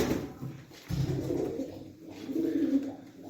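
Pigeons coo nearby in soft, low, throaty bursts, a few overlapping calls with brief pauses between them.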